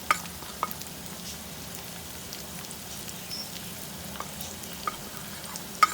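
Taro root (arvi) frying in oil in a pan, a soft steady sizzle with scattered sharp crackles and the odd tap of a spoon, nearby and fairly quiet.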